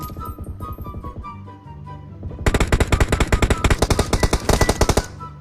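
Rapid automatic gunfire in the battle royale game PUBG Mobile, scattered shots at first, then a loud, sustained burst of close machine-gun fire.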